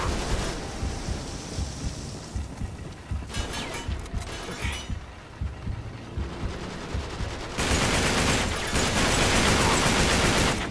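Bursts of rapid gunfire crackle during an Uncharted 3 firefight aboard a cruise ship, as repeated volleys of shots come and go, then a loud, steady roar of fire builds toward the end.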